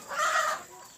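Native gavran village chickens cluck briefly in a farmyard flock, a short close burst of hen calls that fades toward the end.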